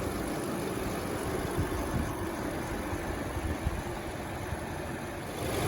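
A 2020 Lexus NX300 F Sport's turbocharged 2.0-liter four-cylinder engine idles steadily under the open hood, a low, even hum with faint mechanical vibration and no talking.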